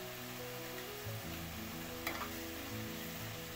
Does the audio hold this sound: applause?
no